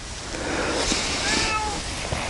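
A cat meows a couple of times at a rural homestead, short rising cries heard over a steady outdoor background hiss, moderately close and with no talk.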